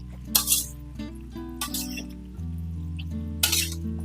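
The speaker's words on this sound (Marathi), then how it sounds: "आता आपण ही वांगी एकदा चेक करूया अशा पद्धतीने ही आपल्याला हलवून घ्यायची आहे" Eggplants stirred in a pan on a gas stove, lid lifted: a few bright metallic clinks and scrapes of a utensil against the pan, with a soft steady sizzle and hum underneath, no talking.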